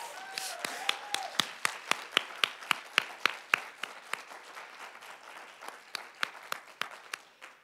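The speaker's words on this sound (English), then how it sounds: "Can we give another huge round of applause to Lady Brian?" An audience at a diversity symposium keynote gives a smallish round of applause, with distinct individual claps ringing out in a steady patter that thins toward the end, and a brief voice at the start.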